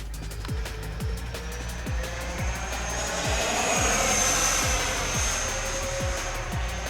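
A Flyfans J-20 Mighty Dragon RC model jet roars by with a high turbine whine rising and falling, over a steady rhythmic low thumping; no talking.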